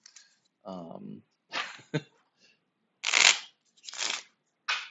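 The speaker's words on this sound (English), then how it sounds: "I'm going to shuffle this deck up." A deck of One Deck Dungeon game cards is shuffled by hand in three or four quick, crisp riffling bursts, close to the microphone. A brief voice sound comes before them.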